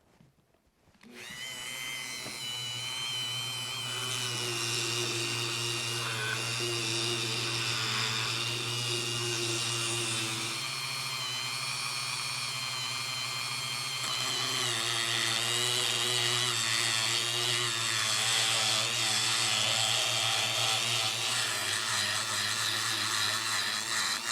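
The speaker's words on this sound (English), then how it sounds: "I'm going to work it a little bit with a stone before I put a sanding paper on the Dremel" A Dremel rotary tool fitted with a grinding stone works over the rough side of an English-made hand vise, whining loudly and steadily for a long stretch after a quick spin-up, with its pitch wavering under changing load.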